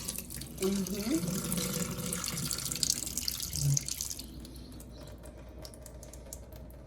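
Running water pours and splashes into a pot for about four seconds, close by, with faint voices underneath, then stops.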